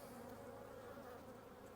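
Honeybees humming steadily during a hive inspection, a continuous close, dense buzz of many insects with no pauses.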